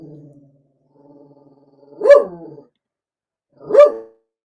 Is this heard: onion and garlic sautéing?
no